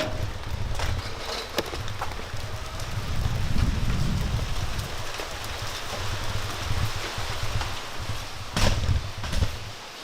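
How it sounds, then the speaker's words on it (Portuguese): Steady rain falls outdoors, a dense continuous hiss with occasional sharper drops and low rumbling, wind-like swells, no voices present. "Chuva."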